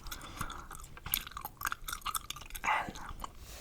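Close-up open-mouth gum chewing, wet smacking and clicking sounds in an irregular rhythm, very near and intimate, with no talking.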